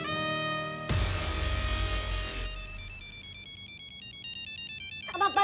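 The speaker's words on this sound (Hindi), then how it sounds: "और ये चेंज करो अपना रिंगटोन, हमारा खोपड़ी घूम रहा है इससे।" A phone ringtone plays at a steady, moderate level, repeating a bright electronic melody in a continuous looping pattern for about five seconds, with no voices over it.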